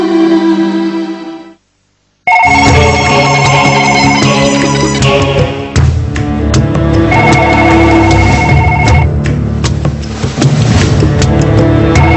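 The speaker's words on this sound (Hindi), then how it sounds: "Please Radha, pick up the phone." A telephone ringtone plays loudly, a short melodic phrase, a brief silence, then a fuller ringing melody that continues without pause.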